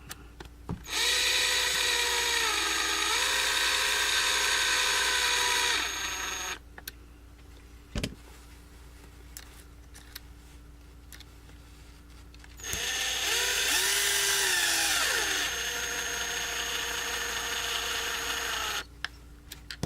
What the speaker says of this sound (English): I do love my new drill.